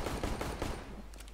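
Rapid gunfire rattles in Counter-Strike: Global Offensive, a quick burst of shots packed into barely over a second, fairly faint and fading toward the end.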